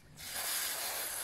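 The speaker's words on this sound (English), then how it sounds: "Spray with the carburetor cleaner" Carburetor cleaner sprayed from an aerosol can onto small carburetor parts and screws in a strainer: one continuous, fairly quiet hiss that starts abruptly and holds steady to the end.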